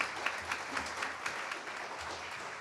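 Audience applause at a public outreach meeting, a fairly faint, distant patter of clapping from a modest crowd in a room, sustained and unaccompanied by speech.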